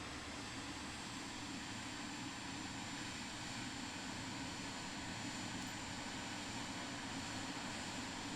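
A plane taxis toward runway 20 in Microsoft Flight Simulator 2024, giving a steady, even engine drone with broadband rumble that holds at the same level throughout, with no voices.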